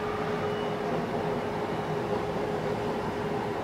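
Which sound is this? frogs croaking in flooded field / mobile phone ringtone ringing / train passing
train passing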